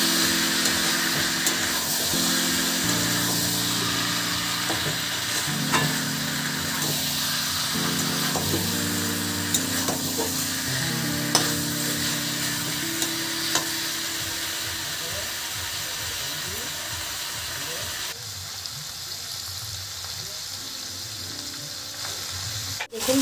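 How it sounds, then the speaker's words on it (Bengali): Mutton being stirred and fried in oil in a pan, a steady loud sizzle with repeated scraping stirs throughout, close up, with occasional brief talk. "এখন ভালো করে একটু নাড়িয়ে দেব।"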